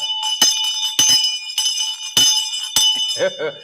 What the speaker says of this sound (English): Love us some bell.